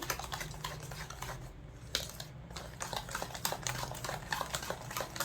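A spoon stirs sugar into homemade Oreo cake batter, making faint, quick clicking and tapping against the bowl in an irregular rhythm, quiet and close, with no voices.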